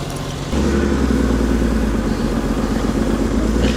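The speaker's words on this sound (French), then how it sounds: "Regarde l'auto, je vais accélérer, je le jure, la traverse elle va finir dans mon 4x4." An off-road 4x4 engine runs loud and close, jumping up in revs after half a second and then holding a steady rough roar under acceleration.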